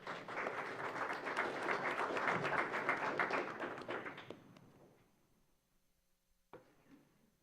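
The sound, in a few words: applause at city commission meeting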